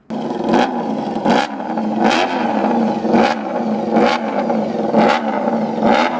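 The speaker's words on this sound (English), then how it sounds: "The VFR has a very distinct sound due to the cams being driven by straight cut gears instead of chains or belts" Honda VFR motorcycle with gear-driven cams, its engine revving hard in repeated bursts about once a second, a loud close whirring drone that swells and dips with each blip of the throttle.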